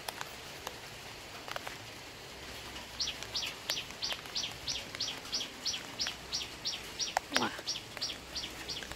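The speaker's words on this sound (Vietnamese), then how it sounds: "Chiều trời mưa có chim hót" A bird sings a rapid, repeated chirping phrase over a soft, steady afternoon rain patter in a garden in Vietnam's Mekong Delta, with a few sharp drips and knocks nearby.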